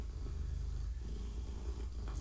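Close, soft and steady purring from a cat, a low continuous rumble with a gentle rhythmic pulse and no voices.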